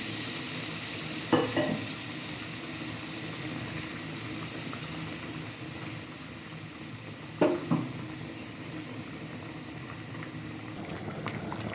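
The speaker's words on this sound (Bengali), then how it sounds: "মুরগিটা এবার কষায় নেব" Chicken and new potatoes cook in a pan with a little hot water, giving a steady low bubbling sizzle with a few soft stirring knocks and clinks throughout, no voices.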